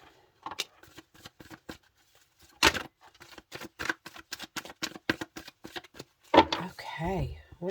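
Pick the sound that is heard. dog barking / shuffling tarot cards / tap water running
shuffling tarot cards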